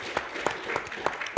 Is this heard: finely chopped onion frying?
no